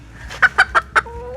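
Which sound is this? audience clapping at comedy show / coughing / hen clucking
hen clucking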